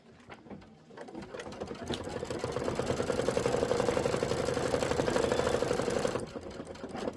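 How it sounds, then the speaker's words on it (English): A sewing machine stitches gray thread onto a Candy Corn Quilt Shoppe hat, starting up, running in a fast steady mechanical rattle for several seconds, then stopping. "I'm just going to go ahead and put my foot down and stitch it."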